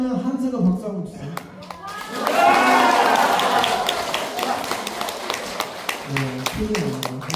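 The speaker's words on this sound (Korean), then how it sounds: "박수 한번 주세요" Applause from an audience of elderly senior citizens at a town hall lecture in Gwangju swells into a sustained burst of clapping, with talk before and after it.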